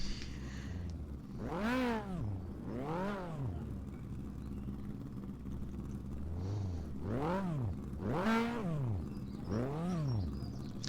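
Hot rod racing cars at Knockhill circuit in Scotland pass close by one after another, each engine rising and falling in a sweeping Doppler roar, with several distinct passes over a steady background rumble.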